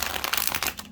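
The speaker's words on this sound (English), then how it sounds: "Let's do one more shuffle." Close riffle shuffle of an 80-card oracle deck, a quick dense burst of crisp flapping paper that lasts under a second.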